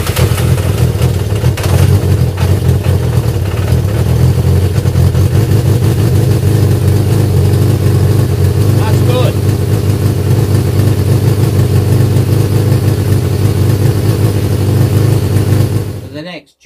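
Vintage motorcycle engine with its carburettor not yet set up, running steadily with a low, throaty idle for about sixteen seconds before cutting out abruptly at the end.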